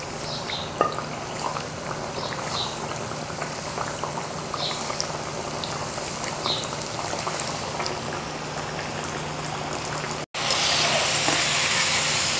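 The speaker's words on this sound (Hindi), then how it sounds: "इनको फ्राई कर लेते हैं।" Food fries in hot oil in a pan for a Ramadan lunch-box recipe, a close, steady bubbling sizzle with faint crackles and pops, cut by a brief gap before the sizzle returns louder and brighter.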